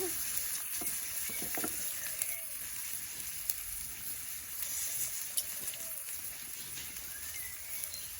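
Dried fish frying outdoors in a pan over a firewood fire, a quiet continuous sizzle and crackle with scattered pops and faint clinks, heard from close by.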